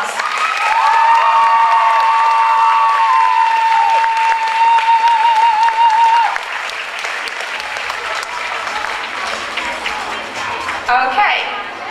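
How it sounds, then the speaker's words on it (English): Award ceremony audience at the 2011 WCS event in Finland bursts into loud, sustained applause, with a whistle cutting through early on, easing slightly but continuing steadily to the end. "one more round of applause."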